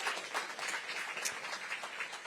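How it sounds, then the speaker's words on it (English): Audience applause at a mayoral government event, fairly faint, with continuous scattered clapping and a few sharper individual claps standing out. "Give them a big round of applause."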